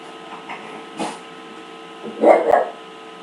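A dog barks a few times indoors, short muffled yelps rising over a steady background hum, moderately distant.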